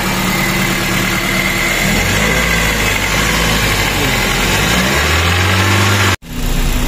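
Toyota Corolla Altis 9th-gen engine idling after a water pump replacement, a steady mid-low hum and air-cleaner hiss heard close up, with a pitch drop near the end and a sudden brief cut before it resumes.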